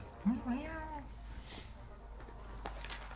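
In Monster Hunter World, a cat companion gives one short, fairly close meow near the start, then quieter game sounds follow while people talk over the gameplay.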